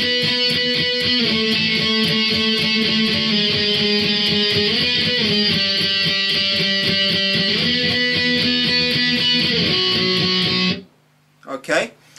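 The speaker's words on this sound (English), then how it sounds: "Alright, so the chorus then, she's a runaway of the establishment incorporated. That part's going to sound like this." Loud distorted electric guitar strums the chorus in octave shapes, shifting chords steadily for about ten seconds before ending, followed by brief talking.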